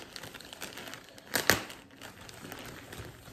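Reusable zero-waste plastic shipping mailer being cut and pulled open, a brief loud crinkling rip in the middle between quieter rustling of the bag, close and alone.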